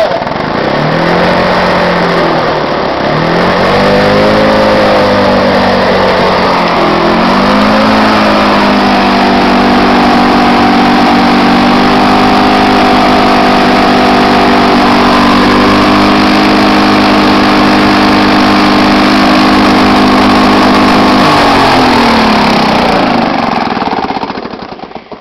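A Lawn-Boy lawn mower engine, cold and with a wet crankshaft seal, sputters and varies in pitch as it catches, then settles into a loud, steady close-up run.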